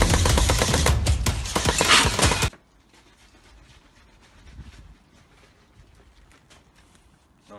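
Rapid bursts of gunfire crackle for about two seconds while jumping and shooting in a Black Ops video game, then cut off abruptly into faint background noise.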